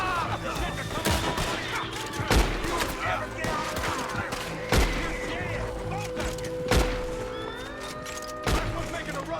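Scattered gunshots in the video game Red Dead Redemption 2, sharp isolated reports every couple of seconds over background game sound and voices.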